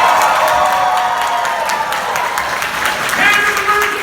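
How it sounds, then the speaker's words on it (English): Audience applauding and cheering wildly at a stage show, dense clapping mixed with shouts and whoops from a crowd, loud and sustained across the whole moment. "They will applaud wildly for no reason."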